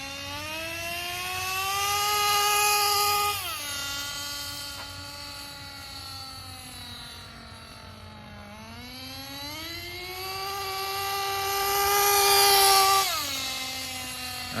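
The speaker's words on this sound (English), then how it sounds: "I was really giving it full throttle there. Should definitely have shifted." A CEN Racing RC car's small engine screams at full throttle, a loud sustained whine that rises and dips in pitch as revs change, with no talk over it.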